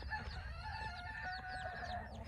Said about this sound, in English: This mama chicken is doing good